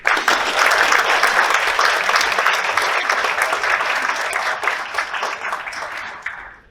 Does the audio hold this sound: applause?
yes